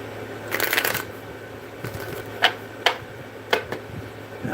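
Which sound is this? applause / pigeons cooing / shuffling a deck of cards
shuffling a deck of cards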